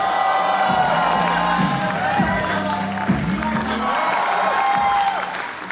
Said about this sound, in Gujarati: તાળીઓ થઈ જાય everybody, come on.